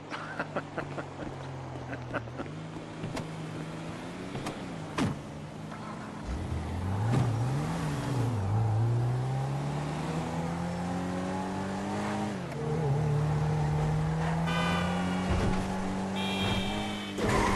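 A car in Grand Theft Auto drives steadily, its engine humming and then climbing in pitch as it accelerates, easing and revving again through gear shifts, with a brief voice near the start.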